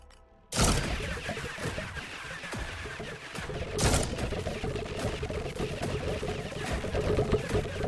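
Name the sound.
repeated explosions from weapon in video game Void/Breaker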